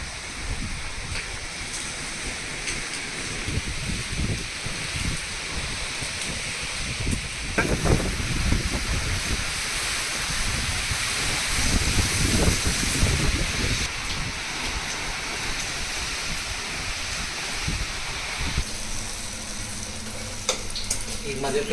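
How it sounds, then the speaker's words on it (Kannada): Heavy rain pours down, a dense continuous hiss that surges and eases for over twenty seconds, loud and close with no talking over it. "ಫುಲ್ ಎಲ್ಲ ಮಳೆ ಗಿಳೆ ಎಲ್ಲ ಬಂದು ಸುರಿತಾ ಇದೆ"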